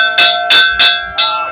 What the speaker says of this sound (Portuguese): Aí a gente toca o sino ali.